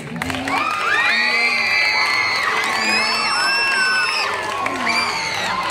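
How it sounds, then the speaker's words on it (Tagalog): The pageant audience roars with loud, shrill cheering and whoops at a gay beauty pageant during the national costume segment, excited high-pitched voices piling up continuously. "Bakit di niyo po sabay-sabay palakpakan at hiyawan ang nag-iisang bangus guwin?"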